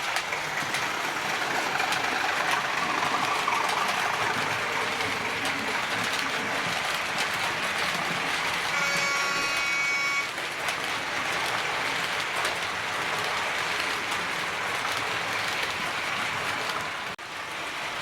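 Hornby model train hauling Cross Country Mark 3 coaches up an incline: continuous steady rumbling and whirring motor hiss, moderately loud and unbroken, with no talk.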